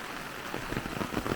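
Rain falls steadily outdoors near a mountain creek, a soft, even hiss with scattered drops pattering on surfaces, fairly quiet and without voices.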